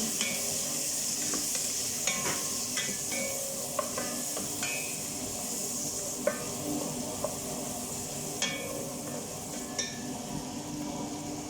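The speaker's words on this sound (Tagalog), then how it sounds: "So, nagisa na yung sibuyas at bawang natin." Onion and garlic sautéing in a pan while fish matobag is cooked, with a steady low sizzle and repeated scrapes and clicks of stirring against the pan throughout.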